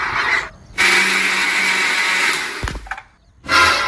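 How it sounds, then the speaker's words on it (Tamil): A kitchen mixer grinder whirs loudly and steadily for about two seconds, then cuts off briefly before starting up again. "மிக்ஸி ஓடுது"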